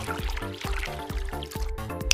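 Kangen water poured onto a green tea bag, a steady liquid stream with bubbly trickling and dripping detail, close and continuous for about two seconds, with a faint bright clink near the end.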